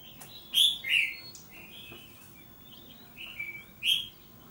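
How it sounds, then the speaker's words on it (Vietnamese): A caged red-whiskered bulbul sings close by on a cold, drizzly day, giving several loud, bright whistled phrases in two bursts separated by softer warbling. "Mình thích cái giọng chim như này."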